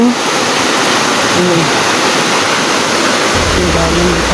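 A flowing stream rushes loudly and steadily nearby, a constant broad wash of water, with voices faintly present beneath it.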